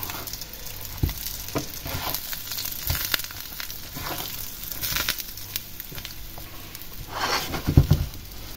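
Polish minced meat patties (kotlety mielone) frying four at a time in a small pan, giving a close, steady sizzle with crackling pops and a few louder spatters throughout.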